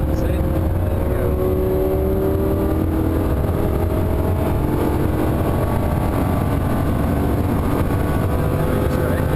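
A Lamborghini Huracan driving laps at Thruxton circuit, its engine a loud continuous drone with shifting whine inside the cabin, while an instructor talks over it throughout.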